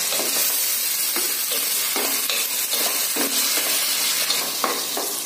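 Finely chopped tomatoes fry in a pan for chole, giving a steady close sizzle with intermittent scraping strokes of a spoon stirring them.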